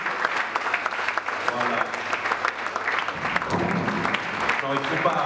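Church congregation applauding and cheering at a pastor's birthday celebration, a dense steady clatter of clapping with voices calling out and someone speaking over it.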